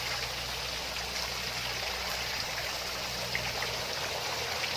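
Steady rushing of water tumbling over a small fall, a constant broadband wash with no voices, close and fairly loud throughout.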